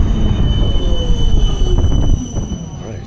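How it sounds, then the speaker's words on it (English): Amsterdam metro train pulls into a station with a loud rumble, thin high squeals from the wheels and steady rolling noise close by. "Oh, looks like my train's coming."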